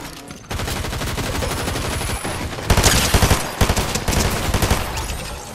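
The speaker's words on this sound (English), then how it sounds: "Oh, I see someone shooting." Rapid bursts of automatic gunfire from the Fortnite video game, loud and close, with a sustained stream of fast shots followed by sharper, punchier volleys near the end.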